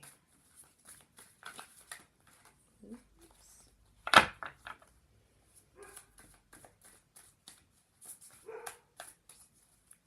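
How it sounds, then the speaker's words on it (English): Dogs barking in the distance, a scattered series of sharp barks and yips over about ten seconds with one louder, closer bark near the middle, otherwise fairly faint against a quiet background. "There are the dogs again."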